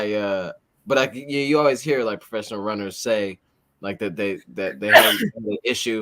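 A single sharp sneeze bursts out near the end of a casual conversation between runners, heard close and loud, with talking before and after it.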